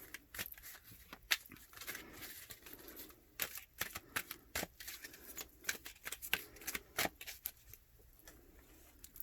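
Tarot cards are being shuffled, giving quick, soft riffling flutters and papery snaps in uneven bursts. The shuffling is close but quiet and has no voice over it.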